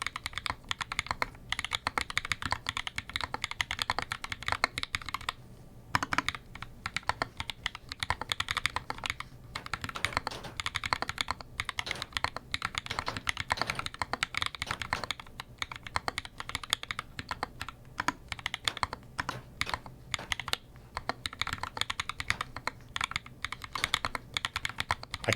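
Steady, rapid typing on a Corne split keyboard fitted with clicky Cherry MX Blue switches, a dense run of sharp key clicks and bottom-outs lasting throughout with brief pauses between bursts, close and alone.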